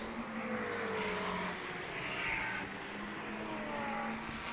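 GT race cars lapping the Brands Hatch GP circuit, engines droning steadily at a distance with rising and falling pitch as they run through the corners, no voices present.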